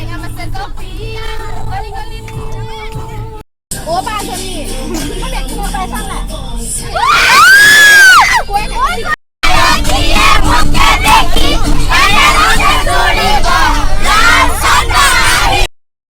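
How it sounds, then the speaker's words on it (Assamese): Friends whoop, cheer and shout together inside a moving vehicle on the way to a youth gathering, loud crowded voices over engine rumble, with brief cuts between bursts. "যাত্ৰাৰ পথত গাড়ীৰ গতিবেগ যিমানেই বাঢ়িছে, আমাৰ বন্ধু-বান্ধৱীসকলৰ উল্লাস দুগুণেই বাঢ়িছে।"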